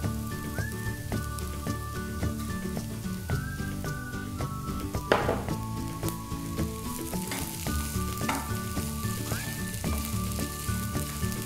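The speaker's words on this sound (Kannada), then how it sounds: "ಈಗ ಬೇಯಿಸಿರೋ ಆಲೂಗಡ್ಡೆನ ಹಾಕ್ಕೊಳ್ಳೋಣ" Boiled potatoes fry in a pan with a dense, rain-like crackle of hot oil, broken by occasional spatula scrapes and stirs, close up and continuous without speech.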